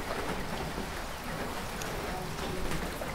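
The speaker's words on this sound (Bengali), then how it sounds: "দেখেন বৃষ্টি দেখছেন কি" Rain falls in a steady, even hiss with a soft patter, holding a constant level throughout and showing no clear speech.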